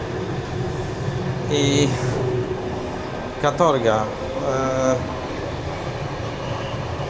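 Inside a passenger train in Australia, a steady rumble of the carriage rolls on, with brief squeals and tonal whines from the wheels and brakes, while someone speaks.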